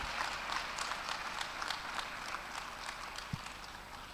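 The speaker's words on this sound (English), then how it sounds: "Let us warmly, with a resounding applause, welcome our senior colleague and Minister of the Federal Republic." Steady, moderately distant audience applause fills a hall at a Nigerian pledge-taking ceremony for newly qualified medical and dental candidates as a federal minister is welcomed; dense, even clapping continues throughout, with one brief low thump near the end.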